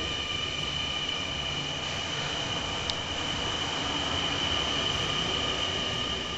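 Steady rumble and rolling noise from inside a moving train, with a constant high whine and rattling carriage sounds throughout.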